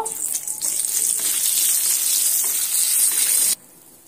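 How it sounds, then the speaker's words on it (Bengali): Two bay leaves and four cardamom pods hitting hot oil in a pan, a loud, dense hiss that holds steady for several seconds and then cuts off abruptly to a quiet background. "ফোড়নের জন্য দিয়ে দিচ্ছি 2টো তেজপাতা, 4টে এলাচকে একটু নেড়ে চেড়ে ভেজে নেব"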